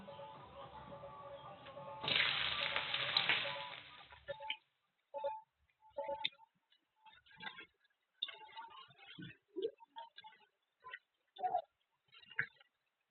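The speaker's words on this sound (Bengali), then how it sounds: "তো এর মধ্যে আমি পেঁয়াজ কুচি দিয়ে দিচ্ছি।" Chopped onion hitting hot oil with whole spices, for a pointed gourd and prawn curry, bursts into a loud sizzle lasting a couple of seconds, then fades into sparse soft crackles and ticks.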